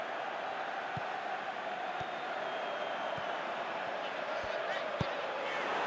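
Stadium crowd noise from the Pro Evolution Soccer 2019 football video game, a steady broad roar of fans running throughout with a few faint low thumps, no talk over it.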